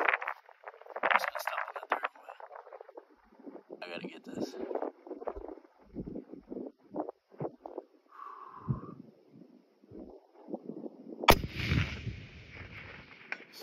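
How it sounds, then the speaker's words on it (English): Rifle shots from a Daniel Defense Delta 5 Pro chambered in 6.5 Creedmoor, fired outdoors at a distant target; a sharp loud report stands out near the end, with people talking before it. "That'll be three, four shots total."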